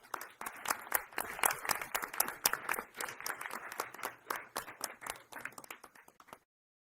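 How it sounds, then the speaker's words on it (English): An audience at a board meeting gives a round of applause. The claps are quick and fairly distant, hold steady for about six seconds, then stop abruptly. "So let's give them a round of applause."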